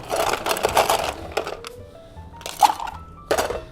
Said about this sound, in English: Next we're going to add some ice.